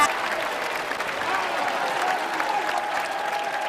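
An audience at a live charity evening show in Fonte Nuova near Rome applauds loudly and steadily, a dense, continuous wash of clapping from a crowd with no break.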